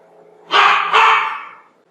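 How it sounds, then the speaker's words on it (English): Scooter the dog gives two quick, loud barks close by, in a home kitchen during biscuit baking, with quiet room sound before and after. "that's Scooter barking."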